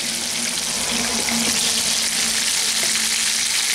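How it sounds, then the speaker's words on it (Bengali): Potatoes fry in hot mustard oil with a little salt, giving a loud, dense, continuous sizzle that stays steady from start to finish with no one speaking. "এখন আমি প্রথমেই এই আলুগুলোকে ভেজে নিচ্ছি"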